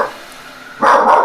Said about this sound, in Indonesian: the dog's barking at the wall, the window